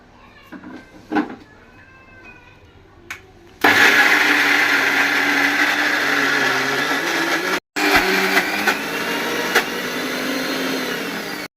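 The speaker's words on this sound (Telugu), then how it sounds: "ఎక్కువ మెత్తగా నూరుకోకూడదు కొంచెం నలిగి నలగనట్టుగా నలిగి నూరుకోవాలి" A mixer grinder starts with a sudden loud whir, coarsely grinding dried red chillies and salt in a jar, briefly stops, then whirs again steadily; a cat meows faintly in the quiet moments before.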